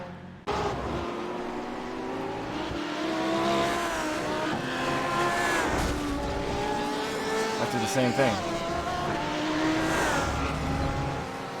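Race car engines from the iRacing video game whine and rev continuously at moderate loudness, with shifting pitch and brief squeals. Someone talks over the engine noise throughout.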